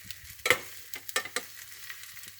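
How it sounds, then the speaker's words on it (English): Soft sizzling and crackling of rice in a light frying pan, with a few louder scraping stirs and clatters as the rice is pushed around, close by and fairly quiet. "You can hear it's fizzing or sizzling or whatever call it."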